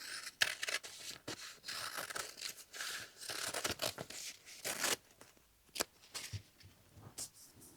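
Scissors cut fabric for a sea turtle applique, a series of close crisp snipping and rasping cuts in irregular bursts with short pauses, fairly quiet, no talking.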